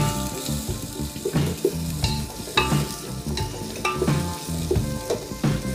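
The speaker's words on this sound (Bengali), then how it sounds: "এই পেঁয়াজটাকে ভেজে নেব। পেঁয়াজটা লাল হবে ততক্ষণ পর্যন্ত ভাজবো।" Three medium chopped onions frying in a pan, a loud continuous sizzle broken by regular spatula scrapes and stirring knocks roughly every second and a half, close up with no speech.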